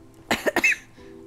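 Someone with a cough gives a quick, close double cough, two sharp bursts followed by a short raspy trailing sound, then quiet.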